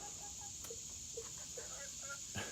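Backyard chickens softly clucking while pecking at cantaloupe, a few quiet scattered clucks over a faint steady background hum.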